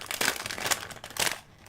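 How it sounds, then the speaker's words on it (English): A bag of peanut butter pretzels being torn open, several close crinkling and rustling bursts of plastic packaging, uneven in rhythm, with no talking. "the sound of the pretzels being opened"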